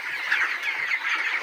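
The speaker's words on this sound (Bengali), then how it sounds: "আমাদের মুরগির খামার, আমাদের খামারে কিন্তু আমরা মুরগি পালন করতেছি অনেকগুলা" Many broiler chickens crowd a hot poultry farm shed, their dense overlapping clucking and panting forming a continuous nearby chatter with no talk.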